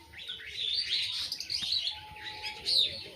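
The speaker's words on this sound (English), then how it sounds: "can you hear the sound of the birds" Birds chirp and tweet in a village in Africa, a lively run of overlapping high calls that rises and falls across the clip, with a soft breeze-like background and no talk.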